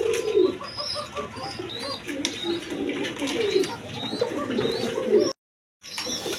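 A pair of Danish pigeons coos repeatedly, soft throaty phrases close by. Someone talks over them, and the sound cuts out briefly near the end.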